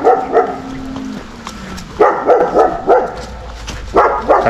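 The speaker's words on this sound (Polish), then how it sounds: "A ona zawsze szczeka na majora." A guard dog repeatedly barks at another dog, a male named Major, in short close bursts separated by brief pauses.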